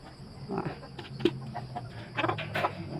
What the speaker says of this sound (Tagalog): May inahin dito.